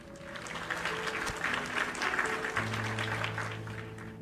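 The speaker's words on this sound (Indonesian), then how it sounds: "tepuk tangan dulu dong buat para ibu dan bapak guru" Steady applause from a crowd honoring teachers, many hands clapping continuously at a moderate level, with faint tones sounding underneath.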